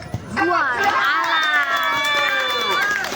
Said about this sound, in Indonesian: Bersama dengan tepuk tangan para bobotoh, para penggemar pecinta sepak bola